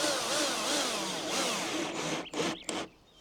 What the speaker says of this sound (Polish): tą końcówką samowiercącą, a resztę dokańcza wkrętarka